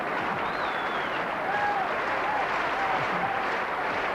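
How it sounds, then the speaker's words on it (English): Sustained applause from a large theatre audience at the 1990 Royal Variety Performance, a dense, even roar of clapping lasting the whole stretch, with faint voices mixed in. "a round of applause for these 2 wonderful sports"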